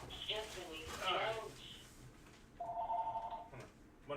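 A telephone rings once in a short electronic burst near the end of the clip, with someone talking beforehand in a vacuum repair shop.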